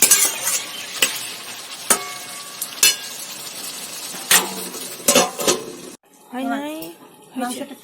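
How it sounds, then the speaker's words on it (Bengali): Chicken with spices is stirred in a pan: a frying sizzle runs beneath repeated sharp scrapes and clinks of a utensil against the pan, and a voice speaks briefly near the end. "এবার এটাকে নাড়িয়ে দেবো আপনার সুন্দর করে কষিয়ে নিতে হবে"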